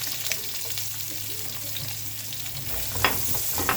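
Two large julienned onions fry in the same pan just used for sausage, giving a steady close sizzle with occasional stirring clicks and no talk.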